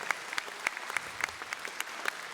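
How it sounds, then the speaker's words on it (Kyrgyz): A concert audience applauds for an honoured artist, a light, fairly distant patter of scattered hand claps that stays even and modest throughout. "бир кол чаап коюңуздар"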